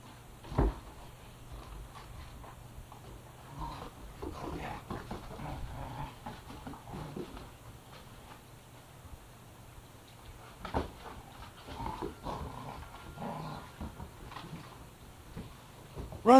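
Several dogs play with puppies indoors, giving faint scuffling, soft panting and occasional whimpers, with sporadic thumps and knocks scattered through an otherwise quiet scene.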